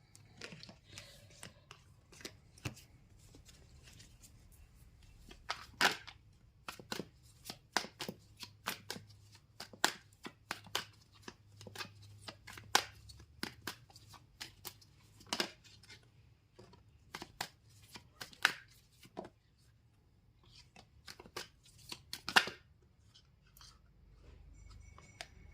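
A tarot card deck being shuffled, with repeated soft riffling and tapping of cards throughout, quiet and close in a calm indoor setting.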